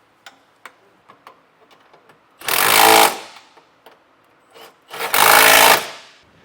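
A power tool with a 19mm socket snugs up trailer hitch bolts on a 2022 Kia Seltos in two loud, rattling bursts of about half a second each, separated by quiet stretches with faint ticking and clicks.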